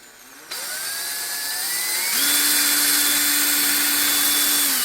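A power drill whirs into a Stratocaster guitar neck, starting abruptly, rising in pitch, then settling into a loud, steady whine as it bites into the wood, close and sustained.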